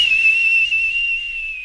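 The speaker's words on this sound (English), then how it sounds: "We must begin with highest pitch of booger whistles." A person whistles through the nose, producing a single sustained, very high-pitched tone that holds steady and loud throughout with no talk.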